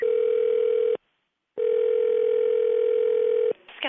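A steady telephone dial tone sounds after the other party has hung up, loud and alone, cutting out for about half a second and then resuming before trailing into faint noise.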